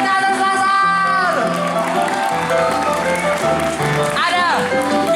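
An audience claps and cheers for a theatre group's performance, loud, dense applause with whoops and shouts running throughout, while a voice speaks over the crowd noise.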